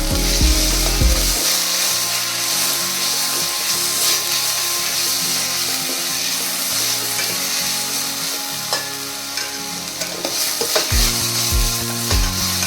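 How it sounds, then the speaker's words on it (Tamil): Ginger garlic paste sizzling loudly in hot oil in a pan while being stirred, with steady frying hiss throughout and scraping, knocking stir strokes at the start and end; no voices. "இப்போ நம்ம ஆல்ரெடி அரைச்சி வச்சிருக்க இஞ்சி பூண்டு விழுதை இதில் சேர்த்துடலாம். பச்சை வாசனை போகிற வரைக்கும் நம்ம வதக்கிக்கலாம்."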